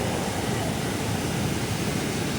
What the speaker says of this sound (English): here the water moves a little faster because of the water hitting the river here